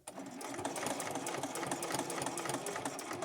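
A sewing machine runs steadily, stitching through the layers of a cloth menstrual pad in a rapid even rhythm of needle strokes, close and clear, with no talk.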